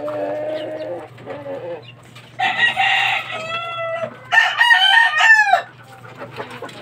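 Chicks and gamecock chickens make close, repeated high-pitched peeping and chirping calls, rising in several loud bursts over a steady low background hum.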